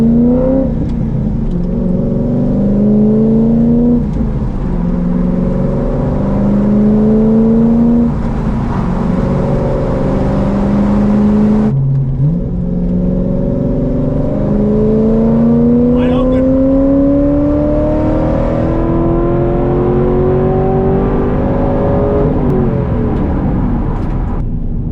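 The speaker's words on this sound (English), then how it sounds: "I just got the thumbs up to go wide open throttle on this thing." A rebuilt car accelerates hard at wide open throttle, its engine climbing loud and close through repeated rising sweeps with gear changes between, while a voice talks over it.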